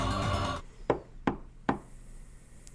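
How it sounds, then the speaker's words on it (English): Three sharp knocks on a wooden door, evenly spaced and fairly close, follow a burst of loud, busy sound that cuts off abruptly, leaving a quiet room. "A knock sounds from the door."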